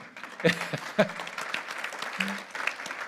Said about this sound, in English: at our events, you can applaud whenever you'd like